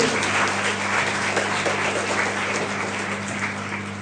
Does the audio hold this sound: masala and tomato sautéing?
no